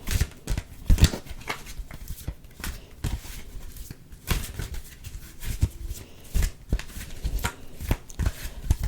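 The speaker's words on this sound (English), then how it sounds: "this is one method of shuffling" Tarot cards being shuffled up close: irregular bursts of crisp riffling and slapping snaps, pausing briefly between handfuls, with no talking.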